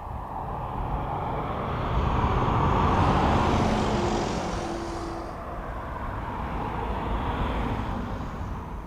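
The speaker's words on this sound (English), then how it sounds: "There's an Air Canada 330 going over the top." An Air Canada widebody airliner passes overhead near East Midlands Airport, a broad distant jet roar swelling to a peak and slowly fading, with no voices.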